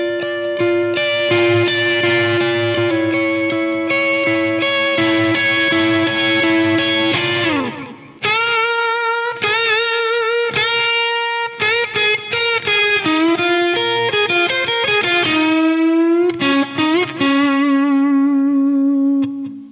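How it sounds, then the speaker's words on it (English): Slow electric guitar playing the blues through distortion and effects, sustained bent notes with classical-style vibrato wavering steadily, loud and close with no voices. "I was actually doing the classical kind of vibrato, which sounds cool too"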